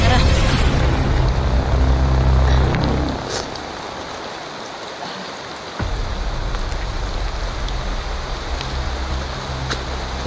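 Heavy rain pours in a steady, dense hiss with a deep rumbling roar for the first few seconds, then eases to a softer constant patter before swelling again, continuous throughout.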